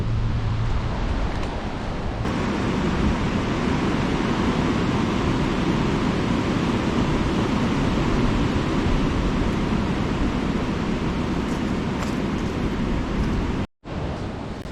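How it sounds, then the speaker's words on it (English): Strong wind roars steadily over a walking track in Main Range National Park at Cunninghams Gap, a loud broadband rush buffeting the microphone continuously with a brief dropout near the end. "I know the wind's strong and the wind does blow trees over"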